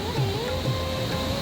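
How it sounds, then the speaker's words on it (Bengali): Mountain waterfall on the Madhmaheshwar trek in Uttarakhand, a continuous rushing wash of water heard steadily throughout, with faint tonal hum laid over it and no talking. "এটা ঝর্ণার শব্দ।"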